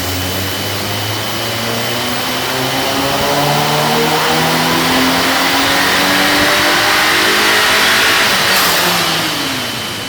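A 1.8T VW MK7.5 Sportwagen engine revs steadily on a dyno, loud and close, its rising harmonic tone sweeping up over about ten seconds amid broadband roar, with no talking.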